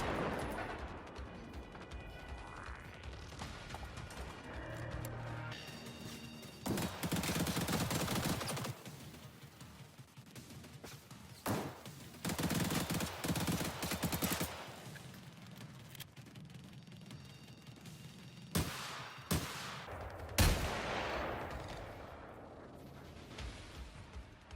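A hunter robot fires its machine gun in the video game Generation Zero, sending repeated rattling bursts and heavy booming shots through a dense, continuous mix of game sound.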